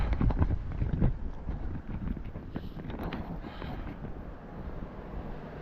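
Gusty wind buffets the microphone during an outdoor walk in Lewiston, Maine, a steady low rumble that surges louder near the start and rolls on throughout with no talking.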